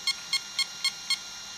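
A Mamba electronic speed controller for an RC model emits five short, evenly spaced electronic beeps while being programmed, each a crisp high tone over a steady faint hum.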